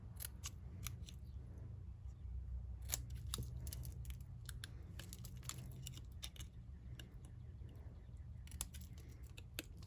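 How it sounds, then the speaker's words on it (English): Snips cutting small pieces of paper during stamping and watercolor card making, a quiet run of crisp, irregular snipping clicks over a low room hum. "I'm going to go back with my snips because it's a little bit easier to do."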